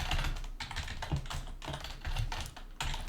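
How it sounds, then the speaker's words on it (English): Typing on a computer keyboard, steady clusters of close key taps in bursts with brief pauses, no voices. "Try and type this out a little more carefully this time."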